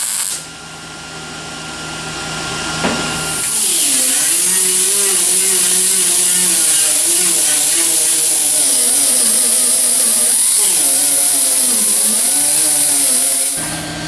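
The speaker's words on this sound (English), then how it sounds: "all of that stitch welding is ground down into a relatively smooth join" An angle grinder spins up and grinds down stitch welds on a Ford XB Falcon's metal for about ten seconds, loud and close, with a high whine and wavering pitch as pressure changes.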